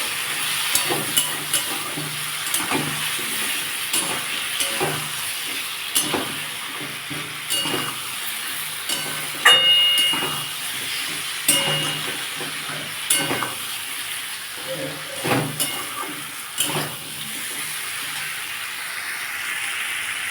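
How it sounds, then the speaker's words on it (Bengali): Spices for a prawn and gati kochu curry are sautéed with a little water, a steady simmering sizzle broken by repeated scraping and clanking stirs of the ladle in the pan, close and continuous with no talk. "আমি একটু সামান্য একটু জল দেবো কারণ সেগুলো মশলা বন্ধুরা ভালো করে কষিয়ে নেবো"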